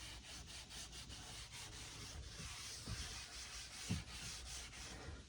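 Surcoat restorer rubbed by hand onto the plastic tailgate cladding of a 2003 Honda Element: faint, rapid back-and-forth rubbing and scrubbing strokes in a steady rhythm, close by, with a couple of slightly louder scuffs.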